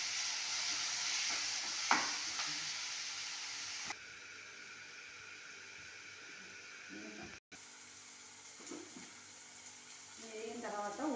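Tomato pieces and onion frying together in a pan for potato masala curry: a steady, close hiss of sizzling with occasional stirring scrapes, louder again toward the end.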